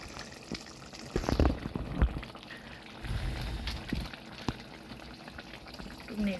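Fish curry with garam masala being stirred in a pan, heard as a quiet bubbling sizzle punctuated by several soft knocks and scrapes of a spoon against the pan.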